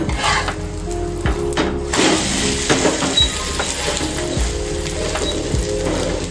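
Bread omelette pav, egg-dipped pav bread, sizzles steadily in a hot pan as it is flipped and pressed, with scraping, clinking metal clatter over the constant frying hiss.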